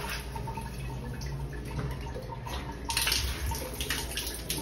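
Water from a tap with weak pressure at a beach resort in Moalboal, Cebu, dripping and trickling into a basin, a soft steady patter that grows slightly louder toward the end.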